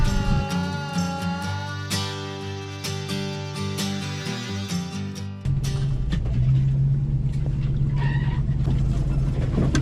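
A pickup truck driving off-road through woods in North Carolina, engine noise rising and shifting, with music-like tonal sound early, then rougher rumbling and rattling once it leaves the track.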